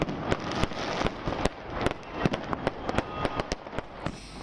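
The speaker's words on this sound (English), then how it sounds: "one can also watch a splendid display of firecrackers that fill the night sky" Firecrackers bursting over the Golden Temple in Amritsar on Baisakhi night, a rapid irregular string of sharp cracks and pops, some near and loud, others softer and farther off, with no voices.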